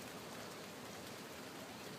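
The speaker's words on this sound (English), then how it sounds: "Oh my God, it's still raining." Steady rain falls outside as a dense, even hiss of drops hitting surfaces, constant and fairly close for the whole stretch with no voices.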